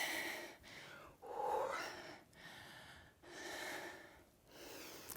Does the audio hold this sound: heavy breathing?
yes